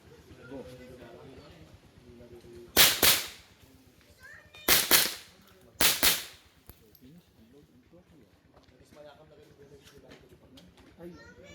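A mini rifle fired by a child cracks three times, two shots close together followed by a third, each a sharp loud report standing out over quiet background with people talking before and after.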